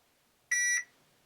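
A single short electronic beep from an RC car's electronic speed controller powering on, bright and tonal, lasting about a third of a second against near silence.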